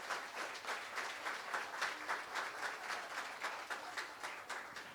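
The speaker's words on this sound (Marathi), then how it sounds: "एकदा हात वरती करून जोरदार टाळ्या वाजवा" Audience at a 60th birthday celebration breaks into steady, enthusiastic applause, a dense wash of clapping sustained evenly for several seconds at moderate distance.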